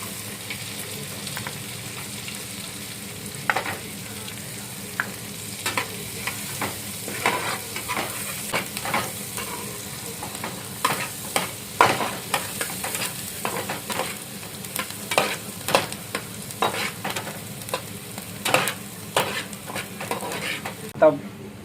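Garlic sautés in a pan for pasta, a soft sizzle punctuated by repeated clinks and scrapes of a spatula stirring against the pan, with someone talking intermittently nearby.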